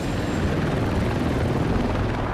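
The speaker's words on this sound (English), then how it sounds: "the fast-moving Marine One helicopters" A Marine One presidential helicopter flies with a continuous dense rotor roar and rumbling, loud and steady throughout, with no voices.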